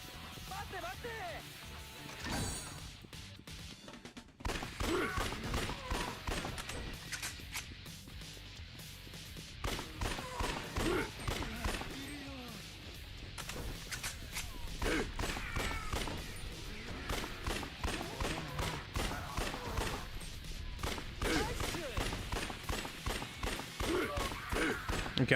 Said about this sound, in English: The Gatling gun arm.